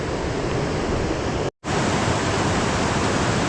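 An Appalachian Trail stream pours over rocks as a dense, steady rushing roar, close and loud, broken only by a brief cut of silence midway.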